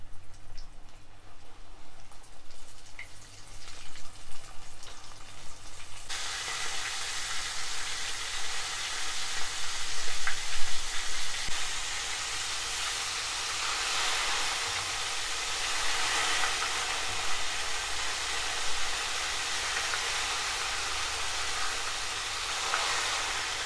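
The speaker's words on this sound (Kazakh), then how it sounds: "Осылай қуырып аламыз, екі шетін қызартып." Fish fry in a hot pan with a steady broadband sizzle that swells after a quieter start and holds constant and close, no talking.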